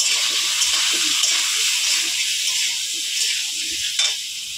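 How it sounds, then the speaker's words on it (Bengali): Potatoes salted and dusted with a little turmeric fry in hot oil, giving a steady, close broadband sizzle that holds evenly throughout with faint stirring underneath. "এবার আলুটা লাল লাল করে ভেজে নেব।"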